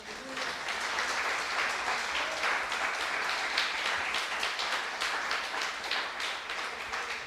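A church congregation breaks into steady, enthusiastic applause for Jesus during a sermon, filling the room evenly with dense, continuous clapping and a few faint voices beneath.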